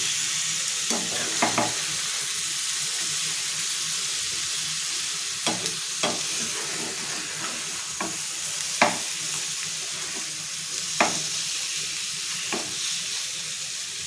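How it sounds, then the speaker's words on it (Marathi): Rakti, pieces of blood fry, sizzle steadily in a pan while a spatula flips them one by one, adding scattered sharp clicks and scrapes over the continuous close frying hiss. "छान फ्राय व्हायला आलेत बघू शकता तुम्ही आता ते मी पलटी करून घेते"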